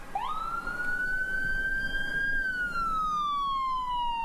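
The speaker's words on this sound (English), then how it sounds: "When you hear the sirens and see the lights coming down the road" A single ambulance siren wails, rising quickly then slowly falling in pitch, loud and close, over the rumble of traffic.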